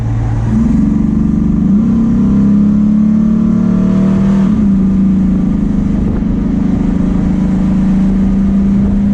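A 1996 Ford Ranger XLT pushrod engine revs up to about 3,000 RPM and holds there, a loud, steady drone heard from inside the cab with no talking.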